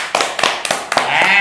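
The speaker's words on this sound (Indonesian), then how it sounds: "Ayo sekarang tepuk tangan semuanya" An audience claps in a few quick, uneven bursts, sharp and close, with a voice joining near the end.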